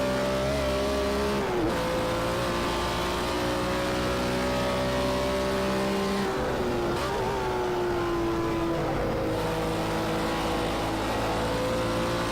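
A BMW M1 Procar race car engine in Project Cars 2 at Brands Hatch roars steadily at high revs, its pitch dipping with gear changes and climbing again, loud and close with no talking.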